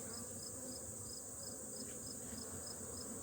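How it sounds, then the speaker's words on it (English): Steady buzzing of many bees around an open hive, a dense continuous drone close by with a faint rhythmic chirping in the background. "Put this one back in without squishing any bees."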